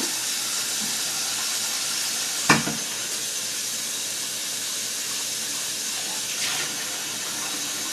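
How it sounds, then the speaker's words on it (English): Fingers are rinsed under a running kitchen tap while making macaroni salad with homemade mayonnaise. The water gives a steady, even hiss throughout, with one brief splash partway through. "Now I'm going to rinse my fingers."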